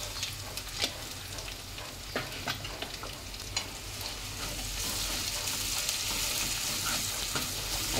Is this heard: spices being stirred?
yes